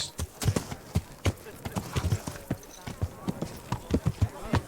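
Horse hooves clip-clop in a steady trotting rhythm in the video game Kingdom Come: Deliverance, crisp and fairly close, with faint background noise and no speech.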